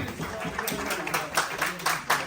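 A group claps together at a Bangladeshi Canadian cricket team gathering in Toronto, with a run of uneven hand claps rising in strength under mixed voices.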